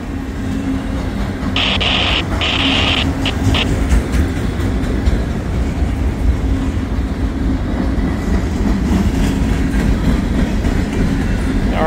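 Long freight train number 510 rolling past close by, a loud continuous rumble with clickety-clack of wheels over rail joints and a brief squeal early on, sustained for the whole stretch.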